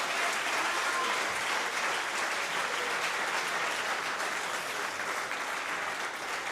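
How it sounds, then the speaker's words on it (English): Audience applauding performers at a talent show, a dense steady wash of clapping at moderate volume from a fairly large crowd, sustained evenly across the whole stretch. "give yourselves a round of applause"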